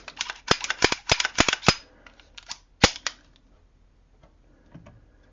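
A handgun being checked to confirm it is unloaded: a burst of sharp metallic clicks and snaps from the action in the first two seconds, one more crisp snap near three seconds, then softer handling clicks.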